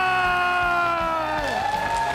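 A TV studio audience at a Korean weekly news-ranking show roars with sustained cheering, whoops and shouts, loud and close throughout, with steady clapping mixed underneath.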